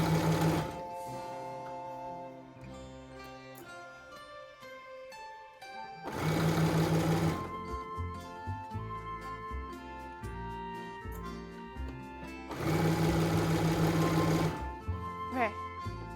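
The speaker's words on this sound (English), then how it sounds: "time to get sewing" Sewing machine stitching fabric for a costume outfit, running in loud steady bursts that alternate with quieter stretches under constant background music.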